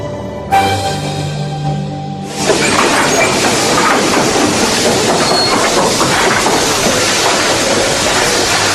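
A train running on rails, a sudden loud rumble and clatter of wheels that swells in after a brief hissing start and then holds steady and close, with rhythmic clickety-clack over the track.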